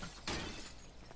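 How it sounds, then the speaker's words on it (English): A car door being smashed in a video game, a single brief shattering crash of breaking glass over a noisy background. "Break the door."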